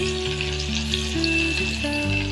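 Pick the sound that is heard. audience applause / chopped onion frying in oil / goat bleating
chopped onion frying in oil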